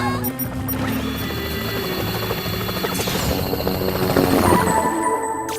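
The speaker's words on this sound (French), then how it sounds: "Parce que voilà l'hélico du Whoop." A cartoon helicopter's rotor chops steadily and loudly, with whirring engine noise and a crash-like burst partway through.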